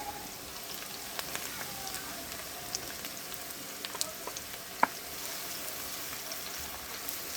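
Sliced onions fry in hot oil for a prawn bhuna, giving a steady, close sizzle and crackle with a few sharper pops throughout.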